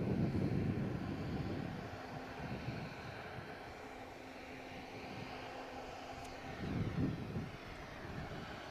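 An airliner climbing out after takeoff from Manchester Airport gives a distant, steady engine roar mixed with wind noise, swelling slightly at the start and near the end.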